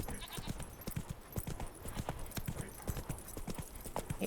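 Hooves of Roach, a horse in the video game The Witcher 3, clip-clop in a steady trotting rhythm of sharp, distinct knocks that continue throughout, fairly close and clear.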